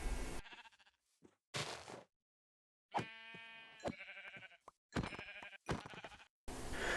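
Sheep in Minecraft bleat repeatedly as a player swings at and hits them, several loud, close, wavering bleats separated by brief silences and interrupted by sharp bursts of game sound effects.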